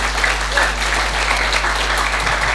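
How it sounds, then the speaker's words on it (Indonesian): Congregation clapping during a church sermon, a continuous, full round of applause heard up close for a few seconds, with a low steady hum underneath and no speech on top. "Bisakah kita beri tepuk tangan buat Allah kita yang ajaib?"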